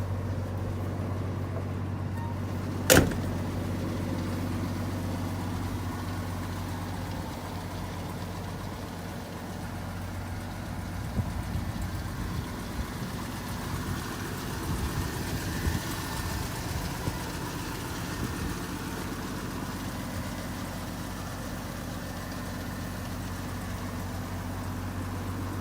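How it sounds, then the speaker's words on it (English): A 1982 Ford F-150 pickup's 4.9L inline-six engine idles steadily with a low, even rumble through its exhaust, alone and at a moderate distance, with one brief sharp click near the start. "Really good running truck. It sounds really good with this exhaust."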